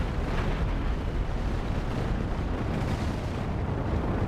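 Spaceship chain guns in the video game Cosmoteer fire continuously, roaring in a dense, unbroken barrage of booming bursts, loud and sustained throughout.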